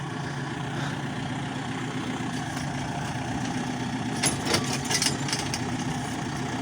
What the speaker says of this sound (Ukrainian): Зараз Костя трошки проїде.